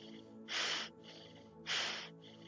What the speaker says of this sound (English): this gentle panting.